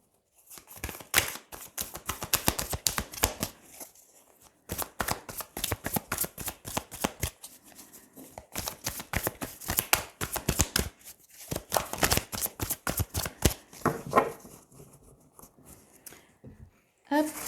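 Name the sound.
shuffling tarot cards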